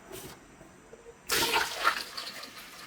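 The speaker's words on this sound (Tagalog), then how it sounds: "Lagyan natin ng maraming tubig at bubuksan ang machine." Water gushes into a peanut butter machine for cleaning: a quiet, hissy background gives way to a sudden, close, splashing pour that continues with uneven surges.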